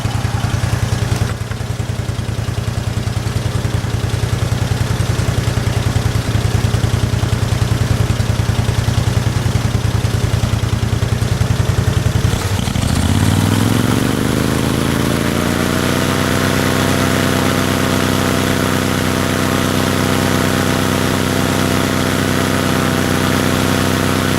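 A Generac generator engine fitted with a new header and carburetor idles with a steady low rumble, then revs up around the midpoint and holds a loud, even high-speed drone, close and continuous with no talk.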